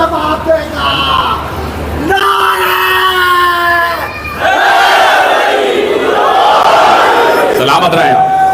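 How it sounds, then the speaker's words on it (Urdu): A large congregation at a Muharram majlis in an imambargah roars a slogan back in unison, a loud, sustained mass shout that swells in waves over several seconds, with a second surge after a brief dip. "پوری طاقت سے نعرے کا جواب دے گا"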